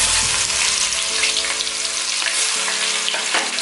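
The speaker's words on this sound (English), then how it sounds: "Fry for like 1 minute." Onion frying in a pan while cooking rice, beans and fish stew, a continuous close hiss of sizzling oil with a few light stirring knocks, no talking.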